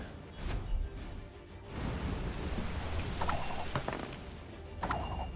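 Rain weather effect from a card played in the Gwent card game: a steady wash of falling rain with rumbling undertone and a few light clinks, continuous and fairly loud, no voices.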